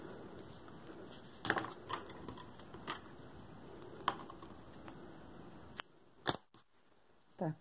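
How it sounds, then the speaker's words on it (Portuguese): Scissors snip crochet yarn while finishing a granny square for a cushion, giving a few sharp clicks and snips spread across the moment with quiet handling in between, up close and with no talking. "eu vou fazer só mais uma correntinha para cortar esse fio"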